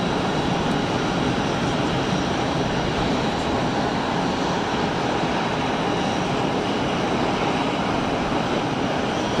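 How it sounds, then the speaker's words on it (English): A Pilatus PC-12 turboprop takes off at Geneva Airport, a steady, loud engine roar holding constant throughout with a dense broadband rush and no talking. "PC-12 needs a long run up"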